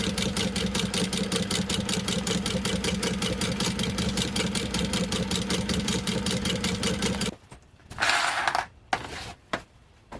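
A new sewing machine runs fast and steady, stitching through vest fabric, with a dense, rapid mechanical clatter close by for about seven seconds before it stops, followed by a few brief handling noises.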